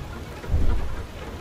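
Hail and stormy weather in the game FAR: Lone Sails: a steady, close rain-like patter with a low rumbling surge in the middle, no voices.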